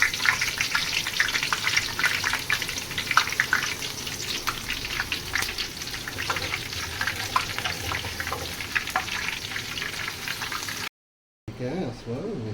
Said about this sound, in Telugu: ఉల్లిపాయలు కూడా ఇలా వేపుకోవాలి.